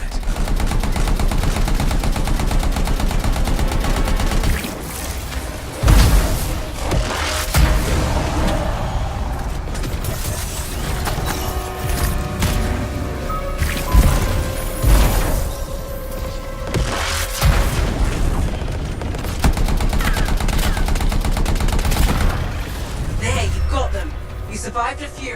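Sustained automatic gunfire and bursts in the video game Anthem, loud and continuous with booms and mechanical clatter, while characters talk over the shooting throughout.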